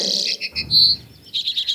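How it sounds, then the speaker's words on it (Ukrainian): Birds chirp and tweet in quick bright bursts, several short high calls and a longer trill, close and clear against a quiet background. "Пташки співають."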